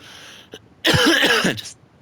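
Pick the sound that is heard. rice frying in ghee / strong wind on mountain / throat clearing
throat clearing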